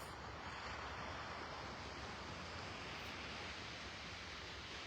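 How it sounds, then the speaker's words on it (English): Steady broadband wash of surf on the shore at Clam Pass, Naples, Florida, before dawn, soft and distant, with waves rolling in continuously under faint wind and no voices. "Can you hear the waves lapping on the shore behind me?"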